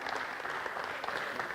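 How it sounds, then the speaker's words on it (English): A conference audience applauds award winners at a literacy event, with steady, dense clapping that fills the whole stretch at moderate distance, no voices on top. "let's give them a thunderous hand clap"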